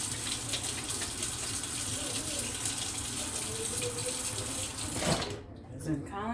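Tap water streams steadily over vegetables in a colander at a kitchen sink, a broad continuous rush that cuts off sharply near the end, leaving a few faint clatters.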